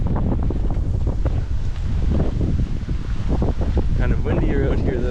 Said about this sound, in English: Kind of windier out here though.